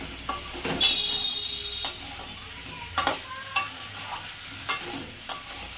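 Ridge gourd and tomato cook in a pan under a soft sizzle, with several spaced spatula scrapes and clinks against the metal and no talk.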